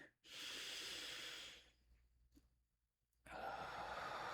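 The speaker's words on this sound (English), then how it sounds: "taking a deep breath" A deep breath taken in a calm setting, a long breathy inhale lasting over a second, a quiet pause, then a full airy exhale, close and soft with no talk.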